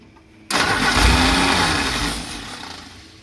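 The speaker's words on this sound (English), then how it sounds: "I think we're running on starting fluid." An old classic car's engine cranks and catches on starting fluid after a brief quiet moment, roaring loudly and steadily up close before gradually easing off toward a rough idle.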